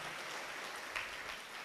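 A crowd at a religious gathering in Chittorgarh claps to welcome the saint Bhai Shri Santosh Sagar ji Maharaj, a steady, faint wash of applause with no speech.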